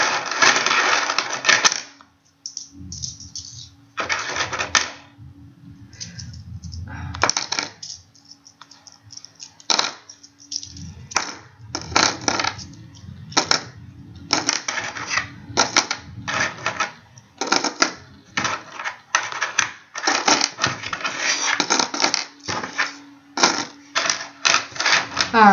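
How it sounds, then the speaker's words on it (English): Dozens of copper pennies clatter and clink in quick irregular bursts as they are dropped and counted out, loud and close with no talking over them. "So we're going to put 33 pennies on that."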